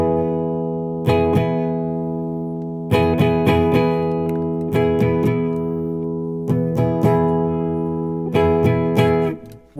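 Electric guitar with humbucker pickups, the tone knob rolled down for a darker sound, strummed chords ringing out through an amp in several loud bursts with sustained decays between them, no talking.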